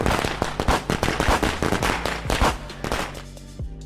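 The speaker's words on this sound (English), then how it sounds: "20 wild pops echoed down the street." A rapid string of sharp firecracker pops crackles for several seconds, dozens of bangs in uneven bursts with a slight echo, tapering off at the end.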